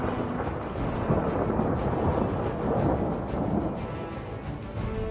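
Simulated tropical storm thunder in a rainforest setup rolls as a continuous low rumble, moderately loud and unbroken, with no voices over it.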